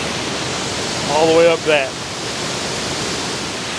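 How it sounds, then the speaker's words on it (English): Rainbow Falls waterfall roars as a steady, loud broadband wash throughout, with someone briefly speaking over it near the middle. "It's really been a thrill to come down here and see this waterfall"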